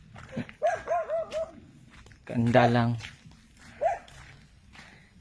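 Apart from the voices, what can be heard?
dog barking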